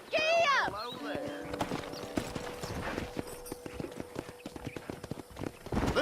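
Horse hooves clip-clop rhythmically across the ground in Red Dead Redemption, close and fairly loud, with a brief whinny at the start and game dialogue over the hoofbeats.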